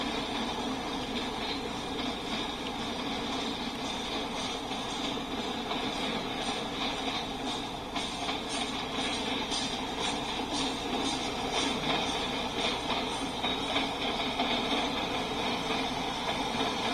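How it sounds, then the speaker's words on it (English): Norfolk Southern eastbound manifest freight train passing at Fostoria, Ohio, a continuous broadband rumble and rattle of rolling cars with rhythmic wheel clicks, steady and fairly distant. "That train's come from Indiana."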